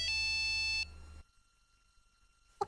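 A phone rings with a loud, electronic, harmonic-rich tone that stops abruptly after under a second, followed by near silence and then a faint clatter.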